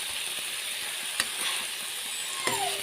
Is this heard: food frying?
yes